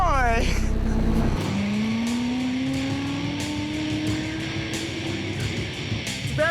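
Life-size remote control car doing donuts on a wet track, with a rising engine rev, then a long tire squeal that climbs steadily as the car slides, loud and near, with a few knocks and clatters over it.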